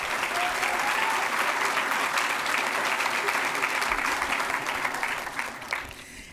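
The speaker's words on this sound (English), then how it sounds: "And one more round of applause for our silver level campuses." Audience at a formal school board meeting applauds silver level campuses, with dense, steady clapping that holds strong and then tapers off in the final second.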